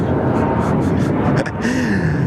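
A Pilatus PC-24 business jet roars loudly and steadily as it rotates early off the runway at Sydney Airport, heard close with engine whine, and a voice talks over it briefly.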